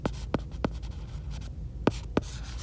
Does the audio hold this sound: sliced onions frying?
no